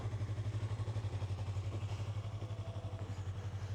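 A Yamaha R3 motorcycle engine with 9,000 km on it idles quietly and steadily nearby, a soft low rhythmic putter with no revving.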